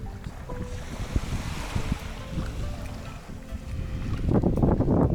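Waves wash onto a shallow beach beside rocks near a marina on the Sicily coast, a steady close surf rush with wind noise that swells louder toward the end.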